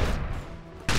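Explosive mortar fire in the video game Second Earth, a dense continuous rumble of blasts and gunfire-like bursts filling the second, loud and close.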